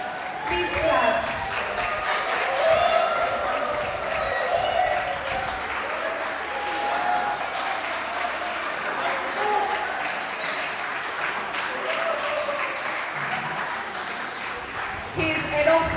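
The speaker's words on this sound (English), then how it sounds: "Please clap." An audience applauding at an IoT and computing conference to welcome a guest, dense sustained clapping from a crowd lasting the whole stretch, loud and close with brief speech mixed in.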